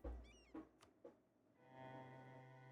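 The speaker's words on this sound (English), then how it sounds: "He's meowing in the back of the room like, I'm hungry, I've never been fed." A hungry cat meows several times indoors, short close calls with a faint thump between them, followed by a quiet steady hum.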